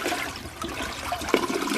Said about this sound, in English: or gets flushed down here